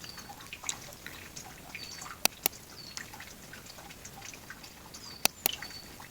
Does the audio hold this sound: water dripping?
yes